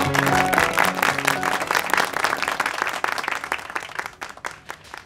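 Classroom applause for a student standing up as a teacher praises his term results, a burst of many hands clapping nearby that is loud at first and then gradually thins out and fades.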